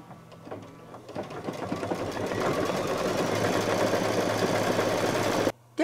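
An embroidery machine stitches a pom-pom and hat band on a Santa table runner, its rapid needle chatter building from a lighter start to a steady, loud, continuous run before stopping abruptly near the end.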